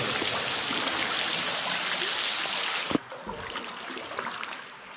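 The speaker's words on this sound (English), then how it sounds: "Yeah, it's like a waterfall dome or something." Water pours from a cave ceiling like a waterfall, a loud dense hiss that cuts off abruptly after about three seconds, leaving quieter drips and paddle-like splashes.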